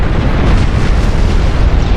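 A flash fire explosion tears through the battleship Nelson in the naval game Ultimate Admirals: Dreadnoughts, a loud, continuous roaring rumble filling the whole stretch.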